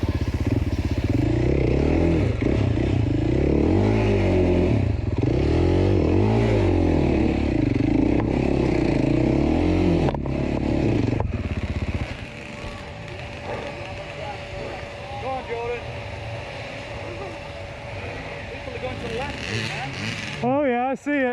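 Dirt bike motorcycle climbing uphill through a swamp during a hard enduro race, engine revving loudly and continuously, straining for traction, then dropping to a lower churning drone near the end.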